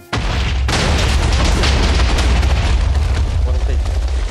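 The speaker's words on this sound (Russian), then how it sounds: "давайте, последний эпический взрыв." A big explosion in the Minecraft video game bursts in abruptly and rolls on as a loud, sustained rumbling boom filling the whole clip.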